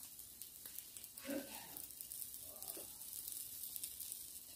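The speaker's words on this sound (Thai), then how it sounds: "ชุบไข่ทอดนะทุกคน" Egg-battered parasol mushrooms fry in a pan of hot oil, giving a steady, soft sizzle with light crackles and pops throughout.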